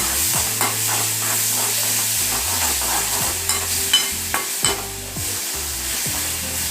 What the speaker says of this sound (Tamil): நல்லா வதக்கிட்டு இஞ்சி பேஸ்ட் பச்சை வாசம் போகி வதக்குங்க